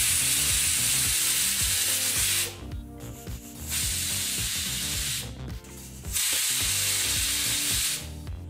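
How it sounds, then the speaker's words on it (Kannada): A home kitchen pressure cooker cooking broad bean gravy lets off steam in long, loud hissing bursts with short pauses between them, a harsh rushing vent sound repeating three times with no talking. "ಈಗ ಇಲ್ಲಿ ಕುಕ್ಕರ್ 3 whistle ಬಂದಾಯಿತು"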